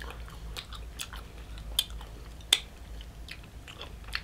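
Someone eats cherry jubilee ice cream close up, with soft wet chewing and mouth sounds and a couple of sharper clicks from a spoon or teeth. The eating is low and steady, with no talk.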